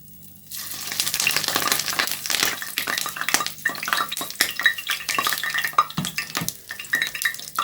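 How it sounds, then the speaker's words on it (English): Ice cream drops into hot oil for deep frying, and a close, crackling sizzle bursts up after a quiet start. Busy spattering pops and clatters continue throughout. "So guys, our oil is hot now. Let's put our ice cream."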